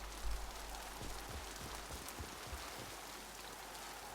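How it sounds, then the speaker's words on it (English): Heavy rain falls in the video game Mass Effect Legendary Edition, a loud, steady wash with scattered drops pattering on surfaces throughout. "God, that rain's loud."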